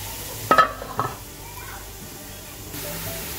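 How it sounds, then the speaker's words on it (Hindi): Onions frying in a pan until golden for veal pulao give a soft, steady sizzle, broken early by a couple of sharp scrapes or clinks from stirring. "हमारी प्याज हो गई है गोल्डन, हल्का करने से निकाल देंगे ऊपर से।"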